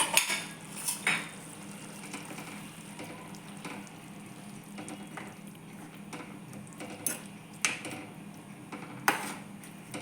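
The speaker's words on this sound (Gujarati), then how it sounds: "મેં બધું બરાબર મિક્સ કરી દઈશું આપણે" Metal utensils scrape and clink against a pan while fenugreek leaf curry with lemon juice is stirred in a steady rhythm, with a few sharper knocks over a soft background hiss.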